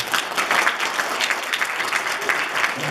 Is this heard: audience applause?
yes